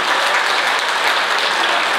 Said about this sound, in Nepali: एक फेर जोरदार तालीले स्वागत गर्नुहोस्